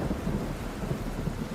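A monsoon thunderstorm in Kakadu brings steady rain with a low, continuous roll of thunder. The storm stays at an even, moderate level for the whole short stretch.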